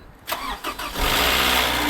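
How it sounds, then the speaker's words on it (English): A Toyota RAV4 with 177,000 miles, parked for a year, cranks for about a second with a couple of scraping turns, then catches into a steady, close, metallic running clatter from the timing chain. "That was some timing chain clatter."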